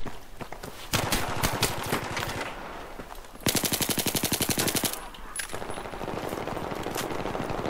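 Rapid bursts of automatic gunfire in Battlefield 3 multiplayer crackle in long strings, separated by brief pauses, loud and close with a processed, game-like sound.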